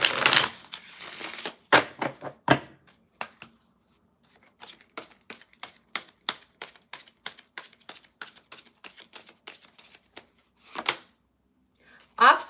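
Tarot cards being shuffled by hand in a quick series of crisp riffling flicks and taps, starting with a louder burst and tapering into lighter rapid clicks, with a final burst near the end and no voices over it.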